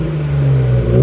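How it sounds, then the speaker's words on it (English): A BMW E36 328i with a full stainless exhaust revs in a loud, close, steady engine drone that swells slightly at the end. "And the exhaust ain't the only thing that makes noise."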